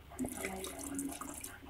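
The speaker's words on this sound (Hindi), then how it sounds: "थोड़ा सा पानी डालकर" Water runs and splashes steadily into a pressure cooker of aloo keema for a couple of seconds, a close, continuous trickling pour with no talking.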